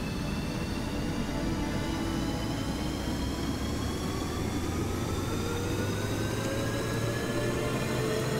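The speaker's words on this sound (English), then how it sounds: "So as you can see, it actually sounds like a real jet engine, and it puts out a lot of power." A turbofan jet engine in the game Stormworks spools up in a steady, dense roar, with tones sliding gradually upward throughout and no voices.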